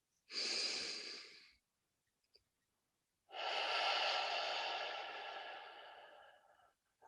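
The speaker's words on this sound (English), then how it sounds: "in doing the coherent and the deep cleansing breath, box breathing" Two deep cleansing breaths during a breathing exercise, each a long breathy rush of air; the first short, then after a silent pause a longer exhale that slowly fades, close and clear with no talk.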